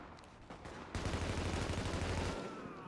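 A sustained, loud barrage of automatic gunfire from The Division during a supply drop fight at Penn Plaza, starting abruptly after a few scattered shots and rolling on for over a second.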